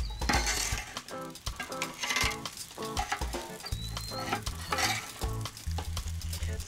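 Bakes of dough frying in oil on a grill, crackling and sizzling steadily up close, with tool clinks and scrapes against the pan as the pieces are turned, no talking.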